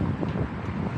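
Strong wind in New York City buffets the microphone in a loud, continuous roar of low gusty rumble.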